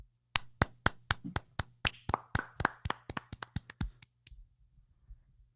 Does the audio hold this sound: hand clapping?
yes